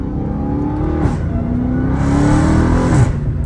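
A Dodge Challenger Hellcat Redeye's exhaust roars loud and close as the car accelerates through the gears, the engine note climbing steadily with a brief shift break before rising again.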